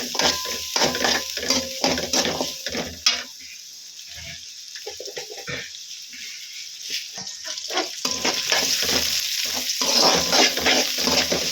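Onions frying in a pan for a Tamil fish curry, a steady close sizzle with repeated scraping and stirring strokes, a quieter stretch midway, then the frying swells loud again.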